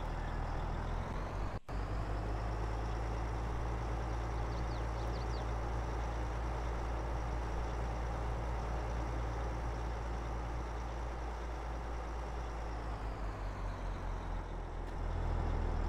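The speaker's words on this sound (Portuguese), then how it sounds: "vamos entrar com o caminhão." A heavy truck idles and rolls slowly onto a weighbridge in Farming Simulator 22, a steady low diesel drone throughout with a brief air-brake hiss near the start.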